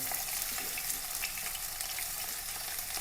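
Three onions sizzle and fry steadily in a pan for an egg stew, a dense continuous crackling hiss with no talk.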